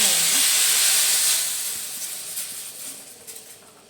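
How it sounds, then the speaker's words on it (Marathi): Hot tempering of chillies in oil, a tadka, is poured into cooked dal for Sindhi dal pakwan, and it erupts in a loud, bright sizzling hiss that slowly fades over a few seconds. "बघा आता आपण तडका ह्याच्यामध्ये डाळीमध्ये"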